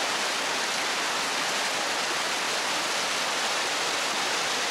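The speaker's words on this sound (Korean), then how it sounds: "눈이 녹은 물이 폭포수처럼 쏟아집니다." Snowmelt water pours down like a waterfall beside a high mountain trekking trail on the way to Annapurna Base Camp, a loud, dense, continuous rushing roar close by.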